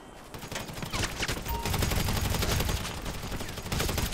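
Rapid gunfire in a 1v1 shooter match, a steady dense stream of close shots chattering without pause for several seconds, no talking.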